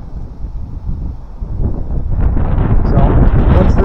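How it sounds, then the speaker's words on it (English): Gusting fall wind roars against the microphone in a stand of dead trees being cut, a steady low rumble that swells louder toward the end with rustling on top. "we got the gust just started picking up here again a little bit"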